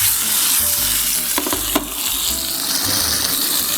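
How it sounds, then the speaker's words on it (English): Quartered artichokes and halved grape tomatoes are stirred in a hot pan in a restaurant kitchen, giving a steady, close sizzle with a few scraping clinks in the middle. "We'll add some quartered artichokes and the grape tomatoes, which we cut in half."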